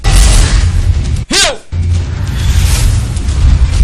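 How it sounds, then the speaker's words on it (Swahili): A gunshot rings out in a Swahili-dubbed action movie: one loud, sharp blast that cuts through a dense soundtrack, with a narrator's voice around it. "Pigwa risasi."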